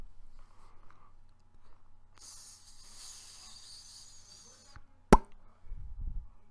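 A voice imitates hair growing back after a clean shave with a soft, airy hiss lasting a couple of seconds, then a sharp click and a low muffled thump at the end, quiet and close.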